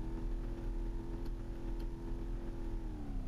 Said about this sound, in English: if you rev the engine here.